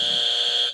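A quiz-show buzzer gives one loud, steady electronic tone lasting under a second and then cuts off abruptly.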